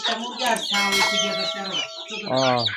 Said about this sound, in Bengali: মুরগি উঠাচ্ছে সব আসতেছে এক এক করে সব আসতেছে